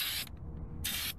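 Two short, sharp bursts of spray paint from an aerosol can onto wheels, close and hissing, separated by a brief quiet pause.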